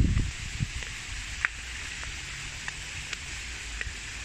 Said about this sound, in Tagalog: Wala pang tigil na yun ang ulan.